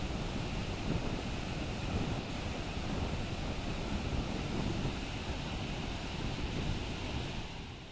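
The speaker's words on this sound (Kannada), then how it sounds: "ಈಗಾಗಲೇ ನದಿ ಅಪಾಯದ ಮಟ್ಟವನ್ನು ಮೀರಿ ಹರಿತಾ ಇದೆ" The Kaveri river rushing in flood above the danger level after a water release from the KRS dam gives a loud, continuous roaring wash of water, steady and broad throughout, fading slightly at the very end.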